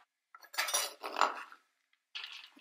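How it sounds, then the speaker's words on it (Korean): Knife chops red chili peppers on a board in a home kitchen, a few quick close taps and scrapes in short clusters separated by silence. "빨간 고추도 이제 같이 썰어주고."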